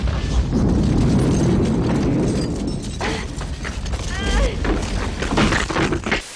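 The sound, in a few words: explosion in the mountains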